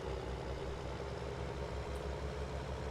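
A tractor engine idles in Farming Simulator 19, a steady low rumble with a regular throb that holds evenly throughout, close and continuous with no voices.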